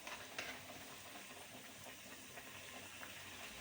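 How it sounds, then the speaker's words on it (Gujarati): Wheat-flour dough shaped into a basket for chaat fries in hot oil, a soft, steady sizzle and hiss with faint bubbling crackles, quiet and continuous with no voices. "બાસ્કેટ તળી લઈએ."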